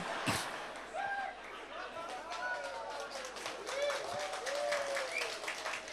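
Scattered applause from an audience at a live religious sermon in Dieng, patchy and mid-distance, with voices and whistle-like tones over it and a sharp knock near the start.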